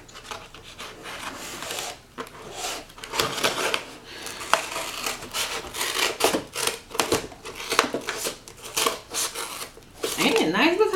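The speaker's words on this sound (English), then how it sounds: "I got my trusty dusty scissors" Scissors snip and scrape against packaging in a series of short crisp cuts and rustles, close up, with some crinkling in between.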